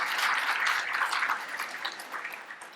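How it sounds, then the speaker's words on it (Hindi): Audience applause at a lecture on evidence-based integrated natural drug development, a dense patter of clapping that starts full and tapers slightly toward the end, heard on its own with no speech. "एक बार ताली आप लोगों के लिए होनी चाहिए"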